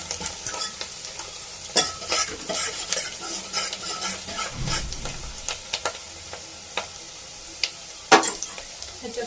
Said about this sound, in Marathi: तर कांदा तळत आलेला आहे